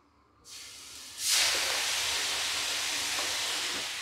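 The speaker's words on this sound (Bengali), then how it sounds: "গ্যাসটা অনেক চাটুটা গরম করে নিয়েছি এবার অল্প একটু জল দেবো" Water splashed onto a hot griddle (tawa) for aloo kulcha bursts into a loud, steady sizzling hiss after a brief quieter start, holding strong until the end with no talk.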